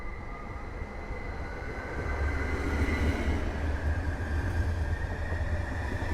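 Two coupled FLIRT ER160 electric multiple units rumble through a station at Warszawa Główna, a steady low rolling drone with faint wheel noise that grows slightly louder midway, with no voices.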